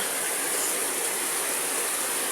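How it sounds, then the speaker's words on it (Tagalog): Floodwater rushing during a typhoon, a steady broad roar of flowing water that stays loud and close throughout with no speech. "Oh, baha na dito. Oh, ayan, oh, may mga pasok-pasok pa dyan na tubig"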